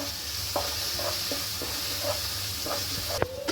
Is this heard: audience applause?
no